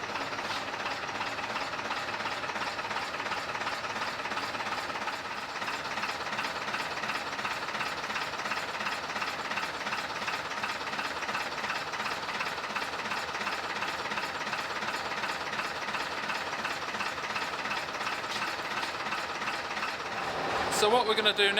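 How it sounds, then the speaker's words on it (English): A London double-decker bus engine idles at a steady, even diesel rumble with a hissing, ticking texture, continuous and unchanging throughout, ending with a brief louder clatter. "We've only got the engine running so we can check the oil level."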